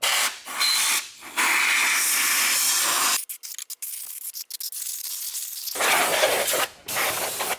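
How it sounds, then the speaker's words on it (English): Compressed air blasts through the engine bay of a crash-damaged BMW E60 M5 with a V10, loud hissing bursts that stop and start, with short gaps and quieter stretches between blasts. "we can use compressed air to blow out the perimeter"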